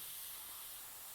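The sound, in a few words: airbrush spraying at 20 PSI flow test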